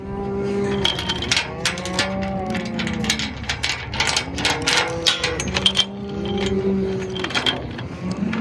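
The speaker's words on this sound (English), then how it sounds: "cows stay over there" Several cows moo in long, drawn-out calls, one after another and close by, over a steady clatter of rattling metal gear or ratcheting machinery.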